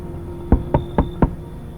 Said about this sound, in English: he actually knocked while the visitor banged